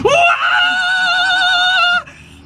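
A voice imitates an RV engine screaming uphill in second gear with a sustained, high, buzzing wail held for about two seconds, loud and close, then cutting off abruptly.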